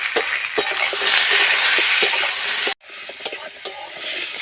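Potatoes and tomatoes fry in hot oil with dried red chilli and panch phoron, a steady loud sizzle with stirring scrapes that cuts off abruptly and returns quieter and patchier near the end.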